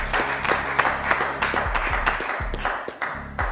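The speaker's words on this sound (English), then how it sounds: "Let's give a huge round of applause to Shaq" Audience applause for a contestant at a school quiz competition in Uganda, with steady clapping from a modest crowd over a background of low music, with no speech.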